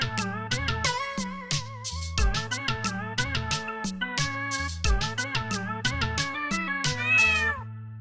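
In a children's Hindi nursery rhyme, voices imitate a cat with a rapid string of sung meows over bouncy music. The meows are loud, rhythmic and close, ending in a drawn-out, wavering meow.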